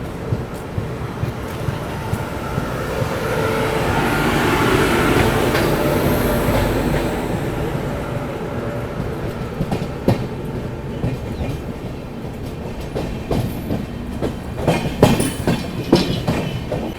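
Steady rail rumble and rhythmic wheel clatter come from the Panvel–Gorakhpur Express as it overtakes the Jammu Mail at Govindpuri Junction, with occasional faint squeals, heard close from on board and continuous throughout.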